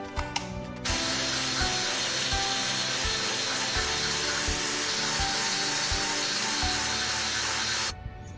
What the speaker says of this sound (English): we're going to grind it and kind of sculpt it into the shape that it should be